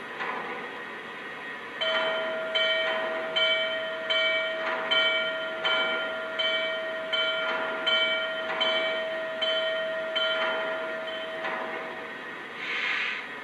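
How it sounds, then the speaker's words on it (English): A Lionel model train's sound system plays a locomotive bell, modeled on the N&W 4-8-4 J-Class #611, ringing steadily about one clang per second over a constant hiss and background rumble, with a bright metallic tone on every strike. "And now here's the bell."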